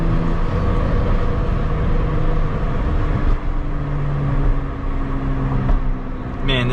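A Porsche 911 Carrera 4 GTS engine droning steadily from inside the cabin, a loud low rumbling hum that holds throughout with slight dips and swells, no speech.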